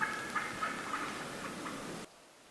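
Wild turkeys gobble in the woods, a rapid, rattling burst heard at a distance under steady outdoor background noise before cutting off abruptly.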